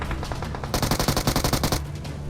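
Rapid automatic gunfire in PUBG Mobile, a tight burst of about a dozen evenly spaced loud shots lasting around a second, set against steady game background noise.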